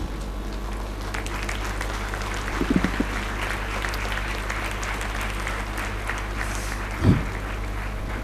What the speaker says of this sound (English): I wish all of you stand up for a moment and give me a good clap